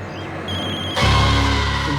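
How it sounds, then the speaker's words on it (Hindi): A phone begins ringing in a tense horror drama scene, a steady electronic ringtone that jumps louder partway through and carries on as a sustained tone, close and prominent with no speech. "तुम्हारा फोन बज रहा है।"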